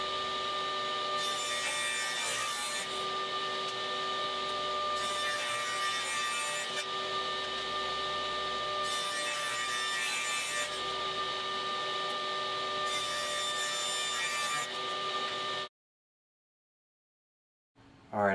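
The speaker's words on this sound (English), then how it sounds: "So my aspen strips are a little bit wider, so I'm going to have to rip them down to 2 inches." Aspen strips being ripped to two-inch width, a steady loud whine of a saw running continuously with repeated surges of cutting noise as the blade bites into the wood, stopping suddenly near the end before a brief return.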